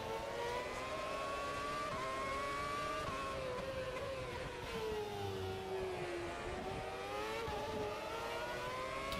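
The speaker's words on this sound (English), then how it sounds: "I miss the sound of the V8s. V8s, the V10s, I miss the sound of all of it." Formula 1 car engines from the 2006 season in the AMS F1 2006 racing game at the Hungaroring, a continuous high-pitched scream rising and falling through gear changes, loud and unbroken, with no talking.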